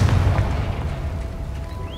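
A Confringo blasting spell explodes in Hogwarts Legacy, a loud deep boom that opens the moment and rumbles on as a fading low roar, with no voices over it.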